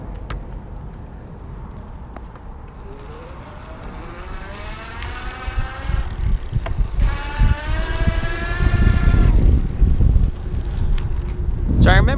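Easy Motion Evo Cross+ electric bike ridden with the motor at full power, a rising whine that climbs in pitch as speed builds, over rushing wind and road noise, growing louder toward the end.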